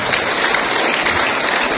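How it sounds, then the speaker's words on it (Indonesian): Audience applause at an Indonesian talk event, a dense burst of clapping that is loud and continuous with no talk over it. "Ya, tepuk tangan."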